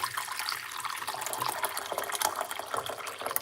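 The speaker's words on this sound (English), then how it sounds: "pour in some hot water, 1 cup" Hot water poured into a cup for a Chinese-medicine drink against bloating, a steady close splashing trickle running without a break and with no talk over it.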